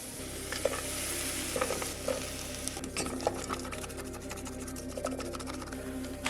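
Chopped onion sizzling in olive oil with garlic in a pot for chicken soup, a steady soft fry with occasional scraping stirs and clicks of a utensil.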